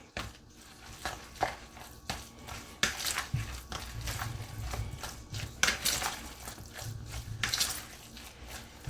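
Salmon croquette mixture with breadcrumbs and two beaten eggs being mixed in a bowl, giving soft, irregular squelching and clicking stirs close by, fairly quiet and uneven throughout, with no talking.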